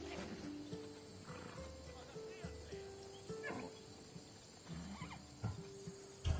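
Horse neighing and hoof clip-clops in Assassin's Creed Odyssey, set under game dialogue and ambient music, with a voice talking in between the animal sounds.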